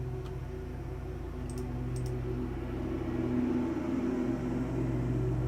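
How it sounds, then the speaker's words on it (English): A neighbor's lawnmower runs outside, heard as a steady, muffled low engine drone that holds on without a break and stays at an even loudness throughout. "That's the lawnmower."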